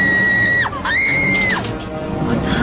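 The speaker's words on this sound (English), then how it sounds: "that certainly sounds like someone is screaming" A high, wavering scream from the horror film December to Dismember rises and falls in pitch twice over a dull, rumbling background, loud and close, with no speech over it.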